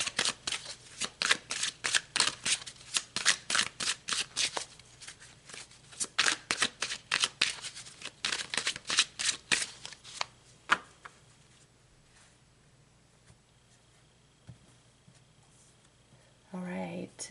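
Tarot cards being shuffled by hand, a fast run of crisp riffling bursts in steady rhythm for about ten seconds, close and clear, then quiet with a brief rustle near the end.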